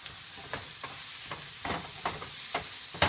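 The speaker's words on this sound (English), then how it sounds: "Saute this well." Turmeric and cumin being sautéed with tomatoes in a pan for palak paneer: a quiet frying sizzle with about half a dozen sharp spoon scrapes at uneven intervals, close and without voices.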